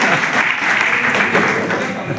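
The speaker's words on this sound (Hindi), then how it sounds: "तो जोरदार तालियां बजाएं।" Loud, sustained audience applause at a gathering about a service run by former soldiers, dense clapping that stays steady throughout.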